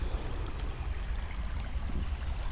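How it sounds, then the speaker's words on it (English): Water of a stream flowing steadily downstream in a spruce forest, a constant close rushing wash that fills the clip without pause. "Nice water flow here. It just sounds so good."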